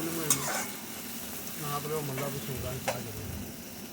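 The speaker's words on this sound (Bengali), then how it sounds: "পেঁয়াজ ভাজা চলছে।" Onions sizzle in a pan at a steady hiss, with a few stirring scrapes and clinks, heard up close with only faint background voice.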